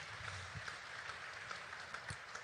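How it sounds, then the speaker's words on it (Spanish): Church congregation giving loud applause during a Spanish-language sermon, a dense steady wash of many hands clapping at moderate distance with no voice over it. "Démosle un fuerte aplauso a Él."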